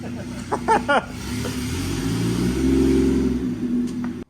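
A turbocharged Lexus IS300 with a CT20 turbo, its engine idling and then revving up into a sustained rising drone, heard nearby in a garage with brief voices early on.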